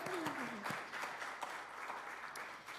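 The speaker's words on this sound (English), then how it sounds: "Let's give Neil another round of applause." A church congregation applauds Neil with a steady round of clapping that stays even throughout, with a faint voice gliding briefly near the start.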